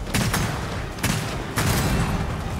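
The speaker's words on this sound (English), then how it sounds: "that was a mini gun" Minigun fire in the Gears of War video game: loud, sustained rattling bursts with three sharper surges of shots, continuous and close throughout.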